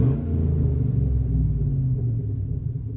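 A 2008 Chevrolet Silverado 5.3 V8 with muffler deleted idles close by, a deep, steady, throaty rumble with a slightly uneven, crackling, popping texture, fading a little toward the end.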